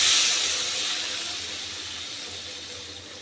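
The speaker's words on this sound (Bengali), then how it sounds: "এবার আমি দিয়ে দিচ্ছি পরিমাণ মতো জল" Water pours into a sizzling masala for soybean kofta curry, a loud hissing rush at first that gradually settles into a softer, steady steamy bubbling with no one talking.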